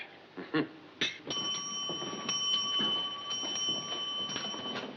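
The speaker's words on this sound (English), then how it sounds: "Seven bells. It's 11:30." A ship's bell struck for seven bells, bright ringing strikes with a sustained metallic tone lingering beneath, moderately close in a quiet room, with no speech over it.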